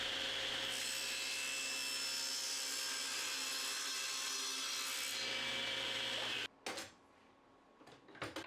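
A table saw cuts a wooden back panel for a picture frame made from firewood, a loud sustained whine with rasping through most of the clip, then cutting off abruptly into a few light knocks and handling sounds.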